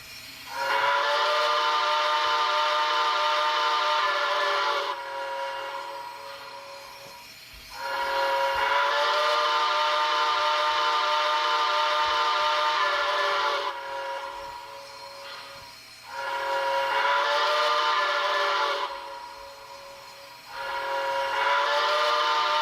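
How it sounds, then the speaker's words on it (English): An MTH HO-scale Cab Forward model steam locomotive with Proto 3.0 sound sounds its quillable whistle in three long, loud chime blasts with brief gaps between them, each rising in and tailing off, with no talking. "the main feature of DCS I like, which is quillable whistle"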